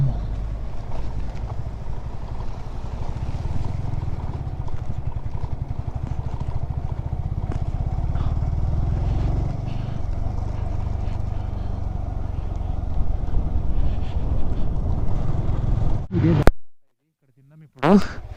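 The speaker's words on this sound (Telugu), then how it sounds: "ఇక్కడే చిన్న వాటర్ క్రాసింగ్ వచ్చింది." Motorcycle on a mountain road between Lato and Jispa on a Ladakh ride, crossing a small stream: a steady, close engine drone with water splash and clatter over rough ground, ending in a brief cutout.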